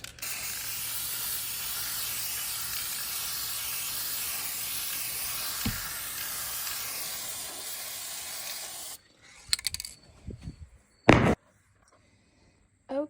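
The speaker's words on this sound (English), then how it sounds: "I'm going to just take this and spray paint it" A long continuous hiss of a black aerosol spray paint can, close and steady, then it stops and a few brief clatters and short spray bursts follow.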